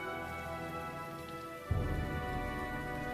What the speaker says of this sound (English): Rain has a profound effect on humans, such as Devon here